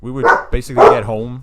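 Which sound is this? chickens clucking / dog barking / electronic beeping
dog barking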